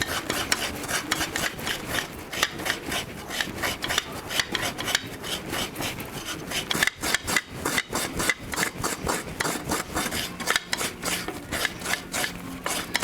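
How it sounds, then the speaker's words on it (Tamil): Coconut is grated by hand, giving a steady rhythmic rasping scrape repeated many times in quick strokes, close and fairly loud, with no talking. "இந்த தேங்காய் உடைச்சிட்டு நம்ம திருவி எடுத்துக்கலாம்."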